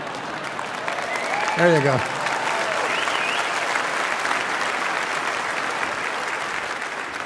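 A church congregation bursts into applause during a sermon, a steady wash of clapping that continues throughout while a voice speaks briefly over it near the start.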